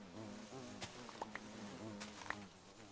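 Faint bee buzzing in the video game Minecraft modpack GregTech: New Horizons drifts in and out, with a few short clicks over a low steady background hum.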